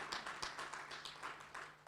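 A conference audience claps briefly at a digital-economy event, a quiet patter of scattered hands with a few sharper taps, fairly distant and short.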